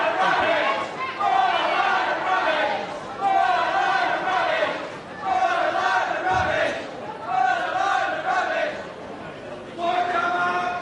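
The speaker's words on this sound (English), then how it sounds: "So whatever the crowd shouts," Wrestling hall crowd shouts and jeers at the giant wrestler Giant Haystacks in repeated loud surges of massed voices, bursts separated by brief lulls, with an announcer's voice cutting through.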